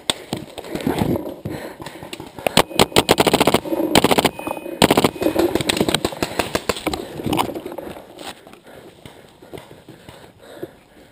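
Paintball markers firing outdoors during a paintball game: rapid cracking volleys in dense bursts, loud and close, with shouting voices around them.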